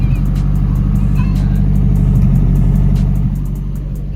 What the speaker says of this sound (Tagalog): Pakita ko lang ulit guys yung ating muffler.